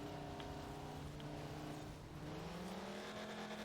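A jeep's engine accelerating in the racing game Forza Horizon 4, a continuous droning hum that dips briefly and then climbs in pitch, heard faintly and alone.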